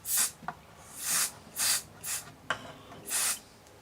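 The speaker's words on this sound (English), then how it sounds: "I can't find the straw, so all I can do is just spray it and hope some goes in." An aerosol spray can hisses into a Dansette Automix record player in five short bursts separated by brief pauses, close and fairly soft, with a few small clicks between the sprays.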